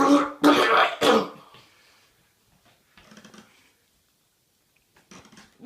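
A few harsh coughs or throat-clearing bursts close by from a months-long cough with blood, followed by quieter rough breathy sounds after a pause.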